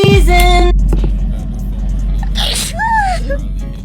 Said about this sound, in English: And I can't stop sneezing.